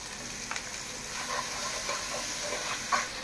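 Chopped onion with ginger and garlic frying in a pan, producing a soft, steady sizzle with a few light stirring scrapes and taps.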